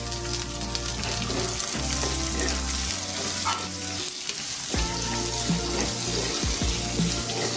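Chopped shallots and onions fry loudly in a pan for a bitter gourd curry, a dense continuous sizzle with stirring and clattering throughout, no voices.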